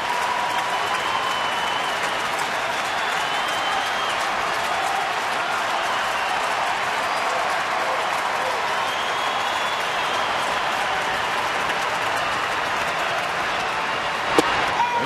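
Red Sox fans stand and applaud at a baseball game against Houston, a dense, steady wash of clapping and crowd noise that fills the whole stretch at a loud, even level with no break.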